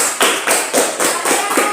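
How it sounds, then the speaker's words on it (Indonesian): A class claps for a group of students in a junior high school lesson, a quick, brief run of even, close, fairly loud claps in a steady rhythm. "tepuk tangan untuk kelompok satu"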